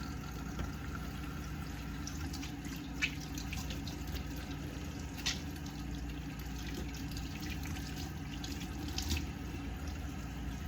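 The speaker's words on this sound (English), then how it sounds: "First, I'm going to start off by washing my hands and assembling my equipment." A tap runs steadily into a sink during hand washing before a medical skill demonstration, a continuous hiss of water with a few faint knocks and splashes, close and without talk.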